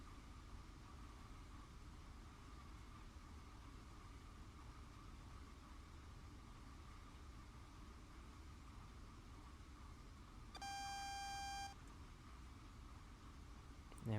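A Train Sim World Great Western Express cab warning sounds once as a steady electronic tone of about a second, loud over constant engine and rail rumble while approaching a yellow signal near Southall.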